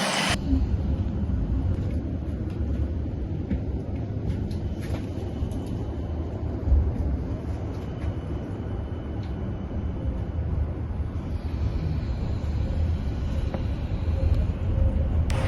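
Steady low rumble and rattling of a tram in motion in Helsinki, Finland, heard from inside, continuous and even with no voices.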